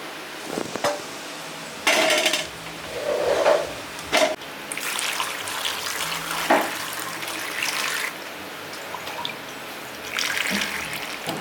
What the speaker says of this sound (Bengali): প্রথমে টমেটোগুলো ধুয়ে কেটে নিচ্ছি